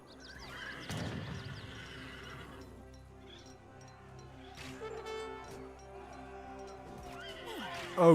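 Cavalry horses charge in Age of Empires 3, with loud neighs and whinnies and some hoof clatter over game noise, then a louder burst at the end.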